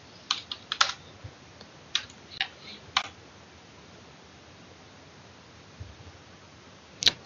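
Code being typed on a computer keyboard: small clusters of crisp key clicks with quiet gaps between them, close but soft over a faint background hiss, and one last click near the end.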